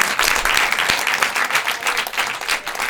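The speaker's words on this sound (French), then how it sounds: "Merci beaucoup, on peut les applaudir" An audience at a Paris improv theatre festival applauds the improvisers, a full, continuous burst of clapping from a live crowd, loud and close throughout.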